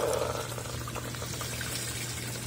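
Water from an opened tap runs into the spinner of a twin tub washing machine, a soft, steady pouring and trickling at low level throughout.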